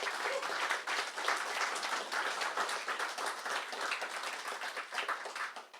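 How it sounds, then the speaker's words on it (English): Steady, dense audience applause at a YMCA Cork celebration event on a main stage, many hands clapping continuously at fairly even loudness for several seconds with no talk. "deserve a round of applause for that too."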